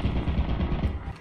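An automated turret firing in a video game, a rapid, rumbling burst of close machine-gun shots lasting about a second, heard without speech.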